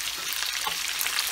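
Cubed onions for chicken Manchurian fry in a hot pan, a brief, steady, bright sizzle with no pauses.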